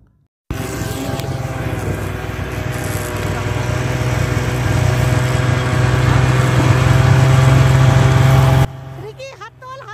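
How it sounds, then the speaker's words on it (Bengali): A snow bike engine runs in the snow at Gulmarg, a loud, close, buzzing drone that swells slightly in the second half and then cuts off abruptly near the end. "স্নো বাইকে করে আমরা এখানে এসেছি"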